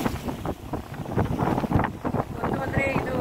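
A large fishing boat travels on the sea off Koderi harbour, with gusty wind buffeting the microphone over a low engine and water rumble while a person talks.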